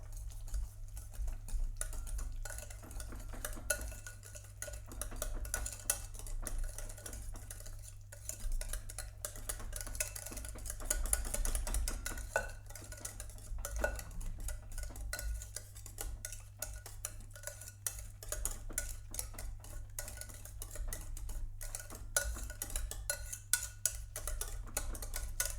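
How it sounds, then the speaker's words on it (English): A yogurt mixture whisked briskly in a bowl, steady quick ticking and clinking of the whisk against the sides running throughout at a low, even level, close up with no talking. "And whisk that together."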